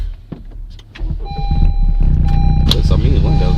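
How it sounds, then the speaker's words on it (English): Power windows on a Honda Civic whir down with a steady electric motor hum inside the car, close and fairly loud, while someone talks over it. "Let me put these windows down, man."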